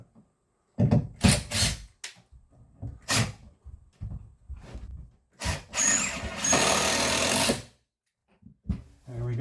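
A drill bit grinds through a bathroom wall down to the drywall behind, in short close bursts at first, then one longer harsh run of several seconds, with pauses and handling knocks between.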